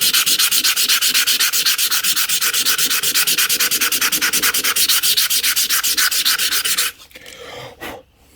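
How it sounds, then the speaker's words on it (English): An old brittle spanner is rubbed briskly with emery cloth in quick, even back-and-forth strokes, a close, loud rasping scrape repeating steadily for about seven seconds before stopping, followed by a few quieter handling noises. "I'm going to use a bit of emery cloth."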